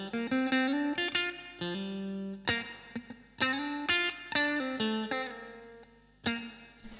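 Electric guitar played through a Blackstar HT1 all-valve amp with valve preamp and power stage, ringing chords and sustained notes with struck attacks and slight distortion, close and steady with no talking.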